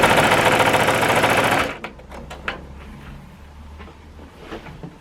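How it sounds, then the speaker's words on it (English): Sewing machine stitching a beginner layer-cake quilt, a loud fast close mechanical whir that stops abruptly after under two seconds, followed by a few faint clicks and quiet handling noises. "I line it up, make sure it's right over there, over that previous line, and I continue to sew."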